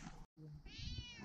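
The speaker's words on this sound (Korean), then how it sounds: "고양이 소리가 들리죠" A cat gives a single short, faint meow at night on a mountain backpacking campsite at Oseosan in Boryeong, heard alone against quiet outdoor background.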